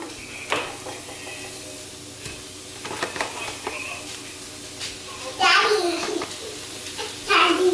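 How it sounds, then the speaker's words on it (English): Meat for a taco casserole sizzles in a pan on the stove, with a soft steady frying hiss under light clinks and stirring, and louder bursts of sizzle near the end. "Let it start sizzling."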